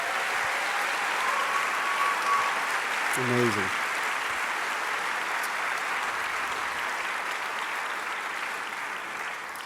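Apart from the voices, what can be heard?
audience applause in university chapel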